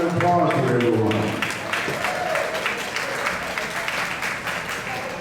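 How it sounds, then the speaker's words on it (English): Applause from a crowd at a 2014 picnic, beginning under a speaking voice and then continuing as a dense, steady clapping from many people at a fairly loud level. "Let's hear a round of applause for everyone."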